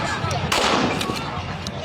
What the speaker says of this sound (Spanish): Las imágenes de carabineros y militares disparando directamente a los manifestantes han sido registradas